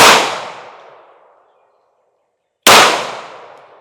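Two sharp, loud pistol shots from a Sig P365 Fuse fired offhand, each a close crack followed by a long decaying echo, the second after a silent gap of over two seconds.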